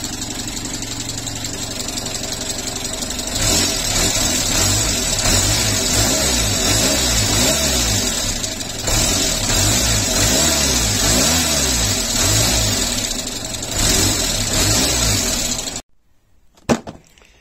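A Renault Super 5 engine runs after a restart following ignition harness work, a loud, close, steady idle with some uneven revving throughout, then it cuts out abruptly near the end, leaving brief quiet and a knock.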